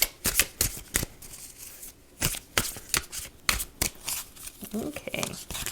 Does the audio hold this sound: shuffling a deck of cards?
yes